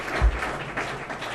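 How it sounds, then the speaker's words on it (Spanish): Audience applause for award winners at an awards ceremony, a brief burst of clapping from a seated crowd lasting just over a second. "Un fuerte aplauso para ellos."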